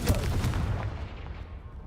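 Confringo blasting spell explosions in Hogwarts Legacy, loud booming bursts with a sharp crack at onset and a rumbling tail, close up, dense and continuous with no talking.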